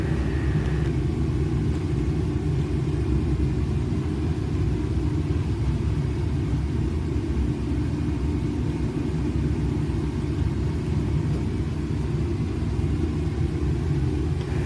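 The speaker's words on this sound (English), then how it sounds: "Bacolod Tower, Philippine 308, ready to land." Steady, loud low rumble of a Philippine Airlines airliner on approach to land at Bacolod, heard from inside the cabin as a continuous engine and airflow drone with no talk.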